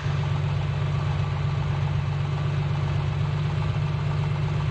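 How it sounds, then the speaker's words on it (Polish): The piston engine of a Piper Comanche 250 aircraft idles steadily, a low, even, throbbing hum with a regular pulse, unbroken and moderately loud with no voices. "Silnik ładnie pracuje."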